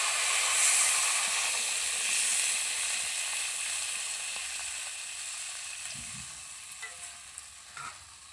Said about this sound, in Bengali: এবার গুলে রাখা সরষে বাটা জলটা দিয়ে দেব